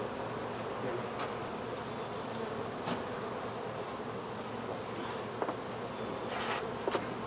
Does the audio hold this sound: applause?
no